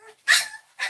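A French bulldog puppy getting its first vaccine gives two short high whimpering yelps in quick succession, close and clear, with near silence between them.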